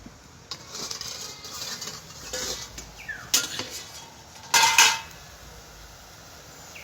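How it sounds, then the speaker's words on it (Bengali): A metal lid lifted off a pot of steamed semolina bhapa pitha, a couple of sharp clinks and clatters near the end over a quiet kitchen hiss. "10 মিনিট পরে আমি ঢাকনাটা খুলে নিচ্ছি।"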